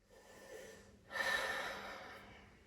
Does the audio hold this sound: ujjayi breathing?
yes